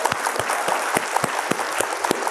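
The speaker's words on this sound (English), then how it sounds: "Big round of applause for that." A dense, even wash of crowd applause plays as a sound effect, with a few louder individual claps standing out at a steady pace and no voices over it.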